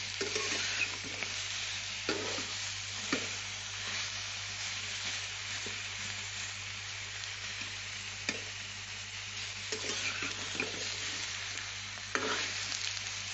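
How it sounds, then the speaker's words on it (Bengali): Steady stirring and scraping of tomatoes in a dry wok with a faint sizzle underneath, punctuated by occasional sharper clacks of a spatula against metal, no voices. "এমনি শুকনো কড়াইতে একটু নাড়াচাড়া করে তারপরে নামিয়ে নেব"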